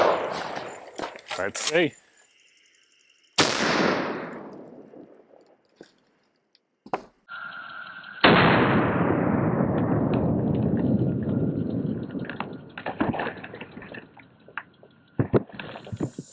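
A 1903 rifle fires at Level IV ceramic body armor, a sharp loud shot followed by a long decaying ring-out, with scattered clicks and handling noises and a brief spoken remark.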